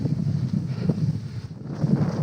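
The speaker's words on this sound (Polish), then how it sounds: "Zaczyna być trochę zimniej, bo wieje wiatr." Wind gusting during a cold marathon run along Lake Baikal in Russia, a steady rough buffeting over the microphone with low rumbling surges and brief lulls, no voices.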